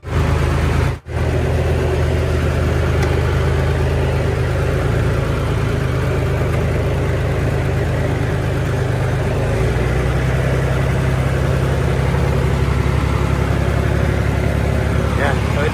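A 1930s tractor engine runs steadily nearby in a loud, continuous low rumble, broken only by one brief gap near the start.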